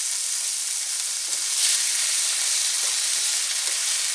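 Goose meat sizzles loudly in a stir-fry pan, a dense, steady hiss lasting throughout with a few soft stirring scrapes underneath.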